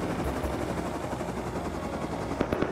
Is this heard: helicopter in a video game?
yes